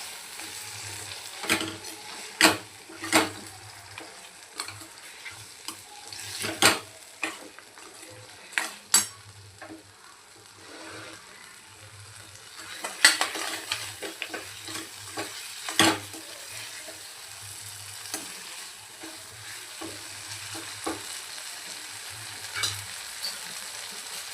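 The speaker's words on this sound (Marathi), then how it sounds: "पीस टाकून याला आपण मसाल्यामध्ये आपले छान असे फ्राय करून घेऊया" Mutton pieces fry in masala for a spicy mutton kasturi methi dish, with a steady low sizzle under repeated sharp scrapes and clatters of a spoon stirring against the pot, close and alone with no talking.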